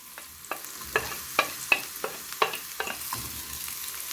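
Chopped onions sauté in a pan for okra with meat, giving a steady soft sizzle with several sharp spoon scrapes and taps that come about every half second, close and alone.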